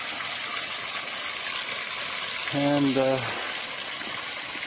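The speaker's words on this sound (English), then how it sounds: "here's the water running all the time" Water running continuously into a small pond, a steady hiss and trickle filling the background while someone speaks briefly partway through.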